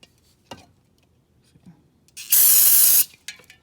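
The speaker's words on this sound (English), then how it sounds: "What I do is I get brake clean" Brake cleaner is sprayed onto a greasy wire harness in one loud, close hiss lasting under a second, set among small clicks and handling noises.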